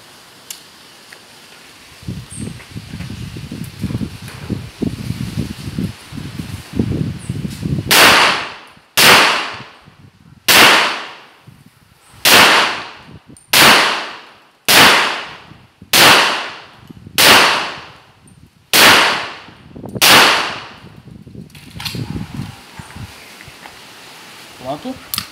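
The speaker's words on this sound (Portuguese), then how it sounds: "Vou efetuar 10 disparos aqui." Ten sharp shots from a Tanfoglio Stock III .38 Super pistol, fired double-action one after another at a steady pace, loud and close, with low murmuring voices before the first shot.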